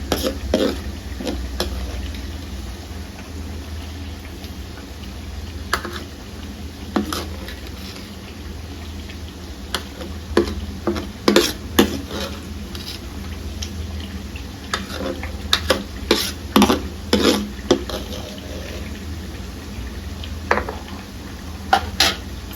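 Garlic frying in a pan for homemade Schezwan chutney, a low steady sizzle under repeated clinks and scrapes of a spoon stirring against the pan, with no talking.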